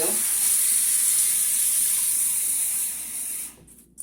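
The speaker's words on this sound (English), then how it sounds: "I'm going to fill the bowl with water" Water streams from a tap into a bowl of seeds, a steady hissing rush that tapers off and stops near the end.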